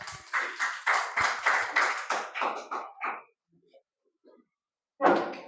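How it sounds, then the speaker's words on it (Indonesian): A small group claps their hands in a workshop session, about a dozen distinct rhythmic claps close by over three seconds. A quiet pause with a couple of faint taps follows, then a final burst of claps. "Oke, tepuk tangan ya."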